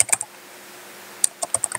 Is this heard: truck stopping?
no